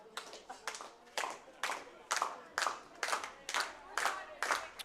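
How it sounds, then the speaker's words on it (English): Rhythmic hand-clap walk-up song playing at an American Legion baseball game, steady repeating claps in a regular beat, moderately loud across the ballpark with faint crowd noise beneath. "brings up Mason Oster, who gets the hand clap walk-up song"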